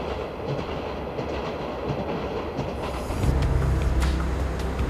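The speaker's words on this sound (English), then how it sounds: "the train from Flåm has taken passengers past free-flowing rivers, up mountains, and by bursting cascades" A train on a mountain railway from Flåm, Norway, rumbles along the rails with rhythmic clatter, growing louder and heavier partway through, no voices.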